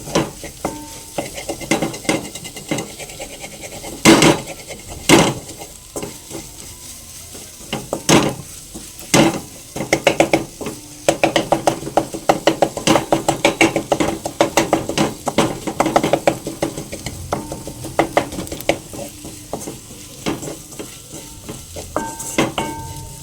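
Egg for egg chapati is mashed and stirred in a hot pan, a spatula knocking and scraping against metal in repeated sharp taps over a steady sizzle, close and fairly loud.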